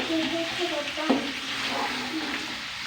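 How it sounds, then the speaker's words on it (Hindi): Mutton browning in a pot for pulao: a dense continuous sizzle with a spoon scraping and stirring the meat, one sharper knock midway, close and without talk. "पाँच मिनट तक हम गोश्त को अच्छे तरीके से भून लेंगे।"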